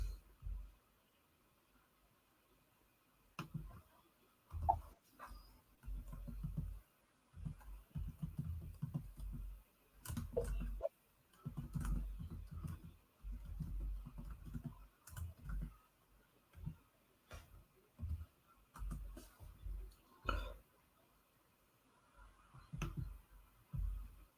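Someone typing a title on a computer keyboard, quiet clicky keystrokes in short bursts separated by pauses, close and soft, no talking.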